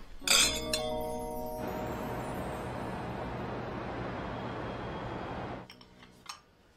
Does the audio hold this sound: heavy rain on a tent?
no